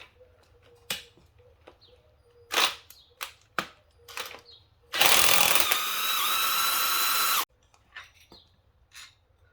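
An impact wrench spins an 18mm strut nut off a 2016 Audi A7 Quattro suspension assembly in one loud, continuous burst of about two and a half seconds, framed by scattered small metallic clicks and taps in a quiet workshop.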